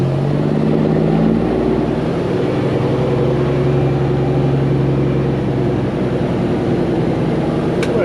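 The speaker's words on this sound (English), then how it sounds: "We are rolling out, folks." A truck towing a trailer loaded with a piece of equipment pulls away, its engine droning steadily and close with a low, sustained hum and some rattle throughout.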